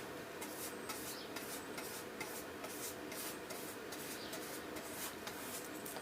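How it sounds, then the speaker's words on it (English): A soft brush sweeps gently over a painted, dyed wooden gun box, giving a steady, quiet rubbing rasp with repeated strokes and no talking. "So I'm using quite a soft brush and going quite easy"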